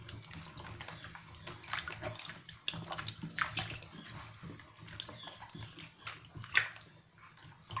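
Vegetables and fruits being scrubbed and rubbed by hand in a basin of water, giving continuous close sloshing and splashing with small irregular bursts, quiet and with no voice.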